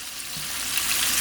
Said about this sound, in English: When the sizzle goes down, it means the chicken is almost cooked.